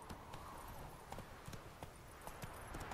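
Horse hooves clip-clop steadily in The Witcher 3, a regular rhythm of mid-loud footfalls over faint ambient game noise, with no voices.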